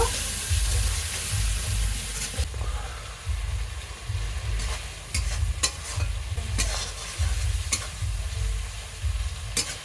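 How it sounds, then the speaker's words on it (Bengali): Steady sizzling of turmeric, salt and spices frying in hot oil, with a spoon repeatedly scraping and stirring the pan, close and continuous. "এবার মশলাটা একটু ভালো করে কষিয়ে নেব"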